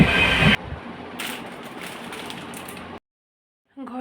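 Inside a Shantipur local train on the ride home, a steady rumbling rattle of the moving carriages runs for a few seconds, then cuts to silence.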